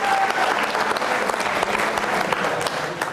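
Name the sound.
loud audience applause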